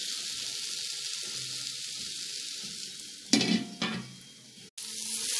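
A tomato masala for chicken curry sizzles in a pan, hissing steadily, with a louder clatter as the lid goes on partway through.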